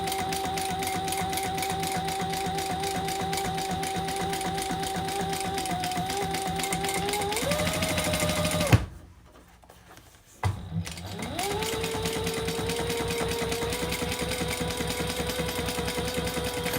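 A sewing machine runs fast and steady, stitching a double-sided leather seam. The close mechanical whir stops briefly, then starts again at the same pace.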